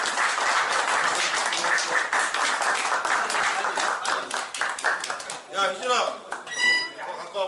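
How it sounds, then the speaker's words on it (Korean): Hands clap at a Korean high school alumni association's year-end general meeting, a dense, steady burst of applause that thins near the end as voices and laughter come through. "자 박수로 좀"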